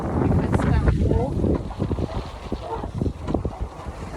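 Steady wind blowing across the microphone on a sailboat sailing solo at about 13 to 14 knots on Georgian Bay, a continuous rushing gust layer under someone speaking throughout.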